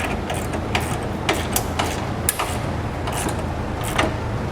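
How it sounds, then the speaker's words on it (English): Ratcheting of a 3/4 inch socket tightening trailer hitch hardware on a 2017 GMC Terrain, a steady series of close mechanical clicks with scattered sharper ticks and metallic knocks, all without talking. "Next, we'll take a 3/4 inch socket. We'll tighten all of our hardware down."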